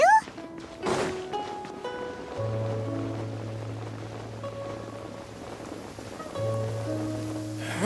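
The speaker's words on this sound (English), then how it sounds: "Rain." Steady rain pours across the scene in the video game Genshin Impact, a continuous wash of patter beneath soft music tones.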